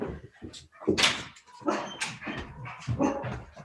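A pet dog barks and yips in a rapid string of sharp, close calls mixed with a few whimpers, fairly loud.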